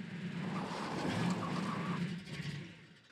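A car driving in the video game Garry's Mod, a steady engine drone that holds for several seconds before easing off near the end, with no talk over it.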